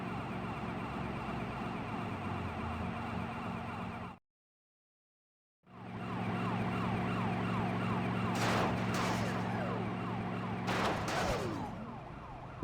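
Police car sirens in a Grand Theft Auto game, loud wailing and yelping over engine noise, cut by a brief silent gap, then returning with sharp crash-like bursts.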